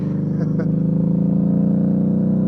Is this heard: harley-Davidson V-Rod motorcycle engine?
yes